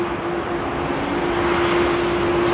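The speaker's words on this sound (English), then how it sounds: "The A380 is getting pushed back as well." An Airbus A380 being pushed back at Amsterdam airport gives a loud, steady engine drone with a constant humming tone over broad rushing noise, unbroken throughout and with no voices.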